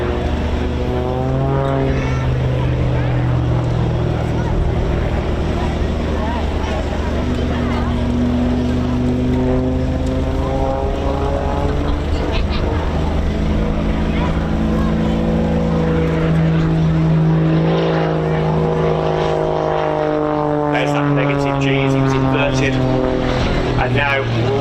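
Propeller aircraft performing aerobatics at an airshow, its engine drone rising and falling in pitch as it loops and rolls overhead, steady and loud beneath continuous commentary.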